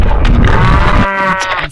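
A sheep in Minecraft gives a single close, loud bleat, a nasal, wavering call that rises out of a rough, noisy start and then trails off near the end.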